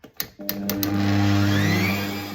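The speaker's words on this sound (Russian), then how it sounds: "Белки взбиваем со щепоткой соли." Electric hand mixer whipping egg whites with a pinch of salt for an apple cake, a steady loud motor whir with a few clicks at the start, running alone with no talk.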